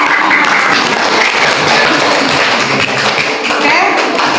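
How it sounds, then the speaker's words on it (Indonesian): A class claps after a student group's presentation on environmental change, a loud, close, rattling burst of many hands with thumping taps, sustained throughout with some voices mixed in. "tepuk tangan dong."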